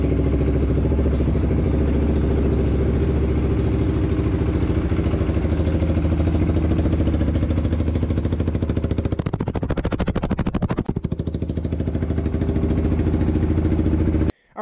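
A Polaris Predator 500 ATV engine idles cold and steadily with a rough, loud, close chug, briefly wavering and stumbling partway through before settling, then cutting off abruptly at the end.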